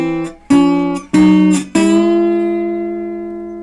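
An acoustic lap steel guitar tuned to open G is played out of tune, giving three struck chords in quick succession. The last chord rings and slowly decays, and the sour, sustained tones sound alone.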